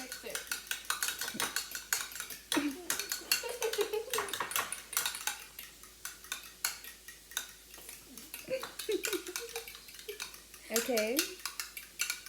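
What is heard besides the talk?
mixing milk into ingredients in a bowl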